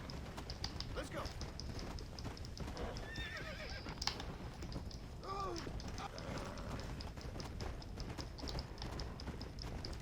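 A horse in the Red Dead Redemption: Undead Nightmare video game whinnies several times over a continuous rhythmic clatter of galloping hooves, with the game's ambient noise running underneath throughout.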